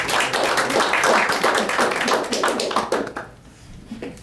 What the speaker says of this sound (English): I just want to have a quick round of applause for our new official members